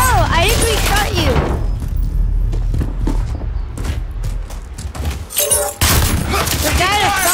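Gunfire bursts from the video game Call of Duty: Warzone, loud bursts and thumps mixed under frequent excited talk from a player, with a quieter stretch in the middle.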